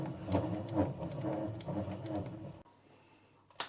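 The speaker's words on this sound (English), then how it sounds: "even when turning by hand, you can hear the lathe rumble a bit" Vintage Karger lathe with its spindle turned by hand, giving a soft, uneven mechanical rumble and whir for over two seconds before stopping, then a brief faint knock.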